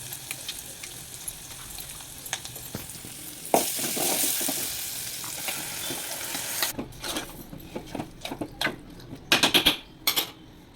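Cucumber chutney dropped into hot tempering with turmeric and curry leaves gives a sudden loud sizzle that fades to a steady fry, followed by clinks and scraping of a spoon against the pan.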